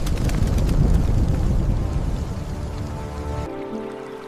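Heavy rain pours down over a vast African grassland near a volcano, a dense, steady roar of falling water with low rumbling, loud throughout and easing slightly near the end.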